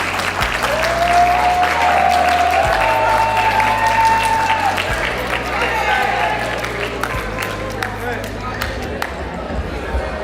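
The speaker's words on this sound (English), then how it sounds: "Let's give him a round of applause" Audience applause fills a high school assembly during a Red Ribbon Week event, a dense, steady wash of clapping with some cheering held throughout under a low musical hum.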